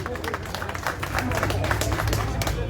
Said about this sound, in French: Momo de Paris, applaudissez pour lui.